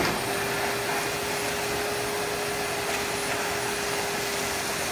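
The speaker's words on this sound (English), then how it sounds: "You open the valve to the hose and then turn on the pump." A W2000/2 wet vac with pre-separator, its pump running to push out collected water, gives a loud, steady whining drone with a constant tone throughout and no voices.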